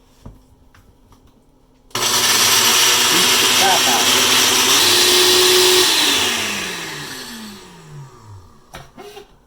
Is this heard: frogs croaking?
no